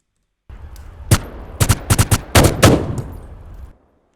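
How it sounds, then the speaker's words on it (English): Suppressed M16 gunfire from a weapons sound effect plugin preset: a burst of sharp, close shots, a single hit then tight clusters of rapid reports over about three seconds, loud and alone with no talk. "I can switch out to an M16 suppressed preset instead."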